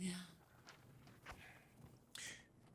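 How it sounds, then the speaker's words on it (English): Footsteps on a stairway: a few soft, separate thuds spaced roughly half a second or more apart, quiet and somewhat distant, with faint voices in the background. "Footsteps stop."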